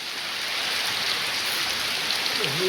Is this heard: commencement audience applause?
no